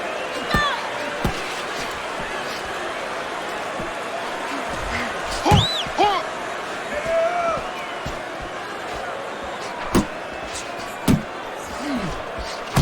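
Punches land in a Fight Night Champion video game boxing match, sharp thuds scattered through the round under commentary and a low crowd murmur.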